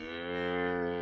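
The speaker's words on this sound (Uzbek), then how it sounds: "Yaxshi sigirdi bolasi, Sigir xudo xolasa." A calf bellows in one sustained, loud, close moo with rich harmonics, heard alone at a farm where cattle are for sale.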